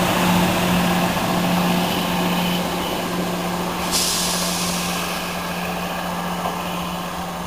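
A diesel passenger train on the 0950 service to Ipswich pulls away from Needham Market station as the driver opens up the throttle. A steady engine rumble and broad station noise fill the scene, a steady low tone fades, and a brief hiss bursts in midway.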